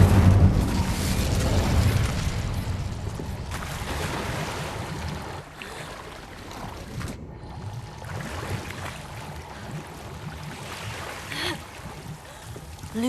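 An Incendio fire spell is cast in the wizarding game Hogwarts Legacy, a loud, roaring fiery whoosh that booms at the start and then settles into a sustained rushing blaze with a fresh surge near the end.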